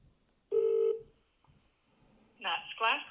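A telephone sounds a short dialing tone, then a pause follows. A voice answers over the line, placing a call to air traffic control.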